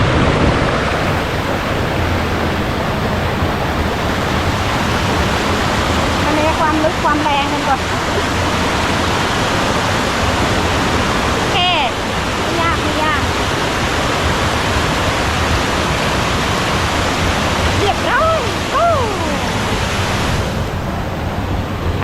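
Krok I Dok waterfall pours steadily in a continuous broadband rush, loud and close. Footsteps and a few faint voices on a forest trail sit beneath the water.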